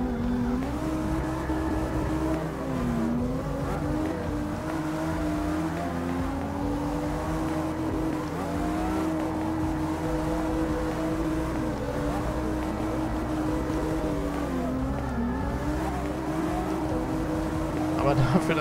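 Mitsubishi Lancer Evo IX tuned to 757 PS in the CarX racing game, its engine droning steadily at high revs with shifting pitch for the whole stretch, a loud continuous motor tone with no gaps.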